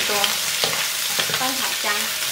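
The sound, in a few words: stir-frying peanuts and ginger slices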